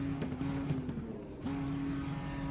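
Steady, droning IndyCar engine note from the iRacing sim at Kentucky, holding a fairly even pitch with a short dip partway through before settling again, continuous and moderately loud.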